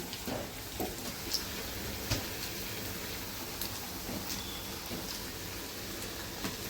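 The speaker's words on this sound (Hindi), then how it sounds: "और ये लास्ट तीसरा मैं तल रही हूँ आलू वाला।" Potato bhajiya fritters fry in hot oil, a continuous dense crackling sizzle with scattered pops, steady and close throughout.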